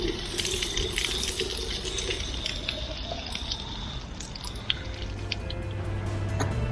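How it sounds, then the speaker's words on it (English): A hiker on the Thames Path tops up a water bottle from a tap, giving a steady close trickle and splash of running water with faint dripping throughout. "Always so nice to top up your water again."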